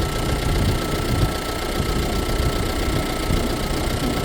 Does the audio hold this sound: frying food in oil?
no